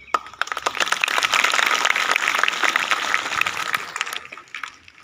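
Applause from a school audience for a student team's presentation on fundamental rights, dense clapping building quickly and holding steady before tapering off near the end, with no talking.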